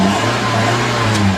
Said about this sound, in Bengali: এই হচ্ছে ইঞ্জিন স্টার্ট